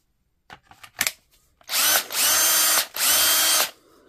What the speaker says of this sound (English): if I try it on a drill